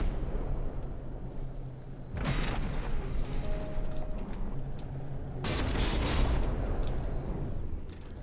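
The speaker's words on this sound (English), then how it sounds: "It's desperately firing some revolting blast guns" Heavy naval guns of battleships firing in the From the Depths game, a dense roar of overlapping booms and rumbling blasts in two loud bursts over constant battle noise.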